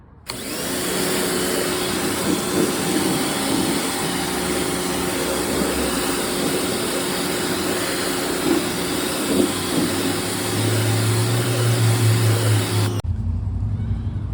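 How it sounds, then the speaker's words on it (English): A pressure washer blasts a dirty carpet pulled from a classic Chevy, a loud, steady broadband roar with a motor hum beneath that shifts slightly near the end before cutting off abruptly. "we got the pressure washer out, and hopefully we can get it a bit more clean"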